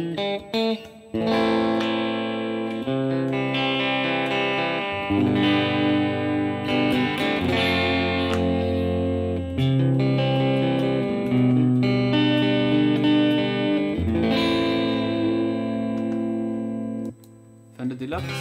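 Electric guitar played through a Fender Bassman clean amp model on a Valeton GP200 multi-effects unit, a sustained run of chords and notes continuing steadily and loud with no talk over it.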